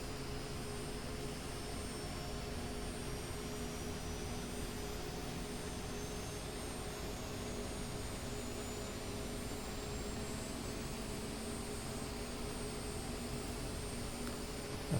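An Mi-8MTV2 helicopter in the DCS flight simulator runs its engines with a constant, even turbine whine and drone, steady in loudness throughout with faint high tonal lines, and no talking.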